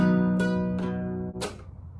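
Acoustic-style guitar strumming in a hard down, regular up pattern for a song, a ringing chord cut off by muted strokes, close and moderately loud with no voice.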